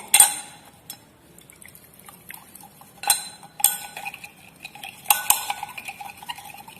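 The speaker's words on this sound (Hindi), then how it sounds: "अब इस सॉल्यूशन को with the help of glass rod अच्छी तरह से" A glass rod stirs copper sulphate solution in a glass container, giving light clinks and taps against the glass with soft liquid swirling between them. The clinks are irregular and close, and no one speaks.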